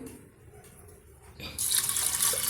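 Water is poured into a pressure cooker holding lentils with a piece of asafoetida and salt for onion sambar, a loud, close splashing stream starting partway through after a quieter stretch, with no speech.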